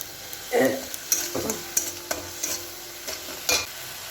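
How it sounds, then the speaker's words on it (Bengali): Curry bubbling in a pan over a high gas flame, with spoon scrapes and stirring knocks over a low sizzle. "গ্যাসের ফ্লেমটা একটু বাড়িয়ে দিয়ে ফুটিয়ে নিই তাড়াতাড়ি করে"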